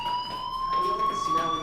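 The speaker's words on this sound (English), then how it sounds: "Hey, do you hear that fire alarm?" Fire alarm ringing in the video game Life is Strange, a steady high electronic tone held without a break throughout, moderately loud with faint background sounds underneath.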